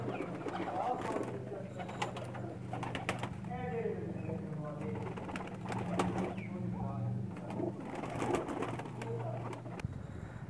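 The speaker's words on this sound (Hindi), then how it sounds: "ये तमाम बाजी वाले कबूतर हैं इनमें।" Pakistani flying pigeons, females, coo softly and repeatedly in the background while someone talks over them, with a low steady hum throughout.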